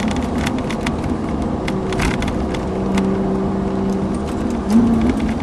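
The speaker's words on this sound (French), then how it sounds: "Allons-y, on accélère." A Ferrari 458 accelerating on the Montlhéry circuit, its engine a loud, steady roar that holds for the whole stretch and rises slightly near the end, with no talking.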